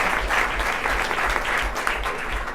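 A small audience applauds steadily after a live band's evening performance, a dense wash of clapping that holds level throughout at moderate distance, with no voices over it.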